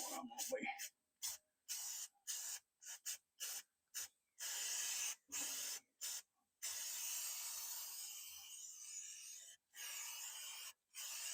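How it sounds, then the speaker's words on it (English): Short hissing bursts of a spray can applying coating onto bare metal before welding a trucker-themed mailbox front plate, several quick puffs in irregular rhythm followed by a longer continuous spray, close and moderately loud, with brief gaps of near silence. "I'm just going to spray just a little bit right there where I'm going to be"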